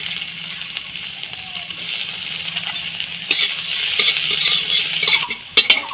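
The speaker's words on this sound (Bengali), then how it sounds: "এই আদা কুচোগুলো ভেজে নেবো।" Chopped ginger sizzles steadily in oil in a pan, with a few clinks and stirring scrapes toward the end, close and moderately loud.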